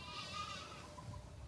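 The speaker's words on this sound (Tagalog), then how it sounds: "Ito naman po yung kambing na nabili namin kay Paring Gerson." A newly bought goat bleats once in a drawn-out, wavering call, close by and clear over a low farmyard background hum.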